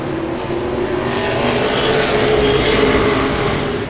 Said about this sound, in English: 25 laps to go, and they still race side by side for the lead